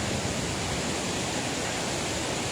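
A steady, dense roar of the Flumen waterfalls at Saint-Claude swollen by snowmelt, rushing and falling water, loud and unchanging throughout.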